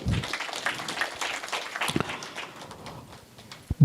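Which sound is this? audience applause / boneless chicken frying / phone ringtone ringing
audience applause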